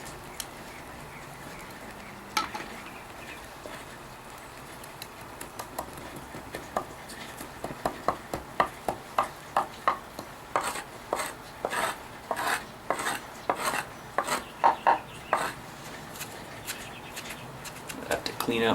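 A knife blade scrapes and shaves a stick of resinous fatwood, starting sparse and building into a quick run of rasping strokes near and fairly loud, with someone talking at times.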